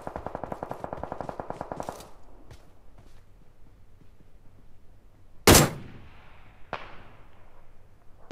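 Automatic gunfire in PUBG Mobile, a rapid burst of shots for about two seconds, then a loud single blast and another sharp shot after a pause, with no talk over it.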